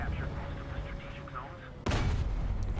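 A tank cannon fires in War Thunder with one sudden, loud, sharp blast that follows a stretch of engine rumble and someone talking, leaving a heavy, rumbling tail.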